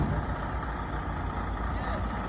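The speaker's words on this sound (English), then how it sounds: "Look at the big old truck." Big old truck idling on a city street, a dense low rumbling drone with steady broadband hiss, continuous and fairly distant, with faint street ambience.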